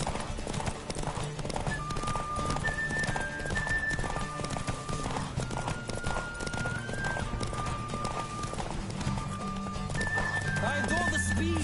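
Horse hooves galloping in Witcher 3 Wild Hunt, a rapid unbroken clip-clop pounding close by for the whole stretch, with occasional whinnies and voices over background game music.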